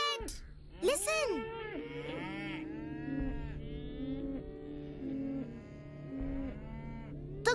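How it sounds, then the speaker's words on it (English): Cattle mooing loudly and repeatedly, several long drawn-out calls overlapping, some rising and falling, close and prominent over a low background hum. "The cows are in danger!"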